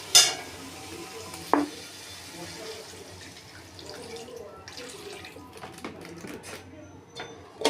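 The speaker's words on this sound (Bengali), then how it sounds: "জল দিয়ে ভালো করে নেড়ে এবার আমি ঢেকে দেব।" Fish curry gravy for bhola macher jhal being stirred in a pan after water is added: soft, quiet watery swishing with a few sharp utensil clinks, fairly faint throughout.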